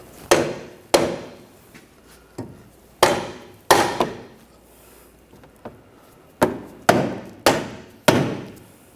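A hammer gives a new control arm bushing on a 2013-2019 Ford Escape a series of loud, close, dull knocks, landing in irregular pairs and singles with short pauses between them.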